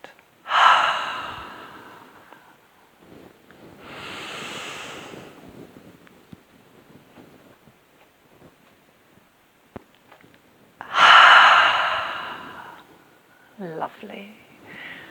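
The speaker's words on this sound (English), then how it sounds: "Breathing out." Deep breaths during a yoga practice, three long audible exhalations separated by quiet pauses, followed by a brief soft voice.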